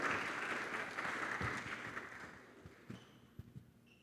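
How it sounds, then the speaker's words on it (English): An audience applauds at a blockchain summit as guests leave the stage, a moderate burst of clapping that fades over a few seconds into scattered, isolated claps. "let's give them a hand clap as they exit the stage."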